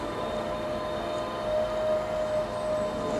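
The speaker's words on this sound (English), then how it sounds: "all the noise you can hear in the background of machinery" Construction machinery hums in the background as a steady, continuous drone with a sustained tonal whine, heard from some distance and unbroken, with no voices over it.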